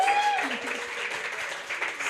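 Audience applause at a poetry event, a steady wash of clapping from a crowd lasting throughout, with a host's voice briefly over it.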